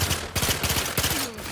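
Rapid gunfire from a magnum weapon in the video game The Outer Worlds 2: a loud, close burst of repeated sharp shots in quick succession, with no talk over them.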